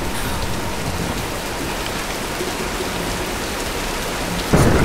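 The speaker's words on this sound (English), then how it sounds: "Nah, let's wait out the storm." Steady heavy rain pours down during a thunderstorm in the Tomb Raider (2013) video game. The dense hiss is loud and constant, with a sudden louder burst near the end and no voices.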